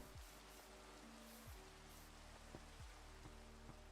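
Steady, soft rain falls in the Minecraft world, a continuous gentle hiss of drops heard alone at low level with no talking.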